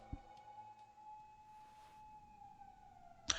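Emergency vehicle sirens in the Yakuza 4 video game hold a steady, sustained wailing tone at moderate volume with no voices over it, ending in a short sharp burst.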